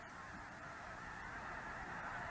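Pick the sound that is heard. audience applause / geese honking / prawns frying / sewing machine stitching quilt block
geese honking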